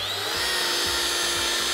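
A paint polishing machine spins at around 1500 RPM, giving a steady high whirring whine with a low pulsing throb beneath, close and continuous, with no talking.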